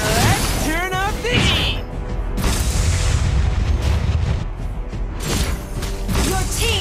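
Game-action explosions and booms during a turret attack in the mobile battle game Mobile Legends, loud and continuous with mechanical clanks, under overlapping character voice lines and announcer speech.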